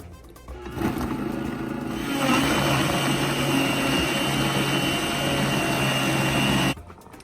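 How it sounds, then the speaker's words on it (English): A countertop blender whirs through chile verde sauce ingredients, starting with a jolt and running at a steady loud motor drone for several seconds before cutting off abruptly. "And now we're ready to blend it."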